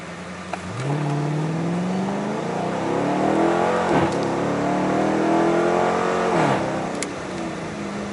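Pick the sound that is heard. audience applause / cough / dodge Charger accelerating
dodge Charger accelerating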